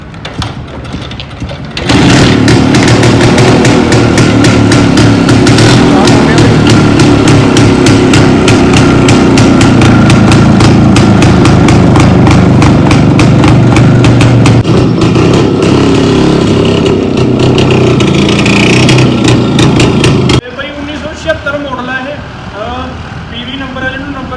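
An old kick-start Yamaha motorcycle, choke pressed, fires up and runs with a loud, rapid pulsing engine chatter close by for about twenty seconds before cutting back, with people talking over it.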